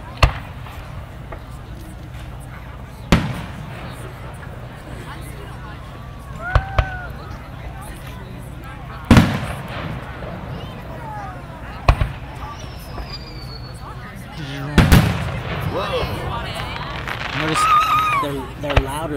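Fireworks burst over Columbia Lake on Canada Day, sounding as sharp, distant bangs spaced a few seconds apart. Some come as quick doubled pops, heard over an outdoor murmur while people talk nearby.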